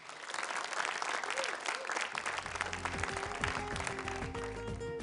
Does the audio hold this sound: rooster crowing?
no